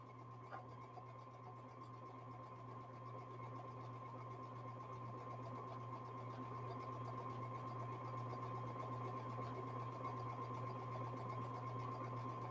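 A sewing machine runs steadily at high speed while quilting jelly roll strips, a continuous even hum with a fine rapid stitching buzz, close and alone for the whole stretch.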